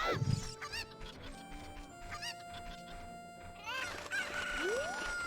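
Cuckoo chickens in The Legend of Zelda: Ocarina of Time cluck and squawk in quick, excited bursts, close and loud, with a rising game chime near the end.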